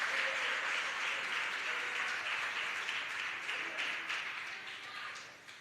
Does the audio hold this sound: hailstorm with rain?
no